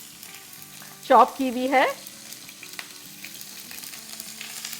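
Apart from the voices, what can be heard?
green chillies frying in oil for aloo sabzi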